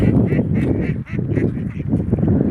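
Wild ducks quack loudly and repeatedly at close range, a dense overlapping chorus of harsh calls with only a brief lull midway.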